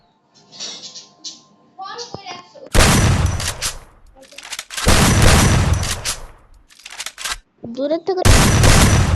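Bursts of gunfire from the Free Fire video game ring out loud and close in several volleys, between stretches of someone speaking excitedly.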